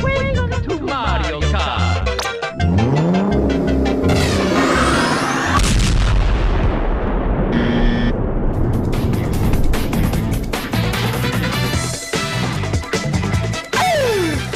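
Loud, dense Mario Kart video game audio: a continuous stream of booms, whooshing kart-engine revs, effects and music running for about fifteen seconds with no talking.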